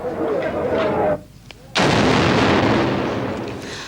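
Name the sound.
police detonating an unexploded bomb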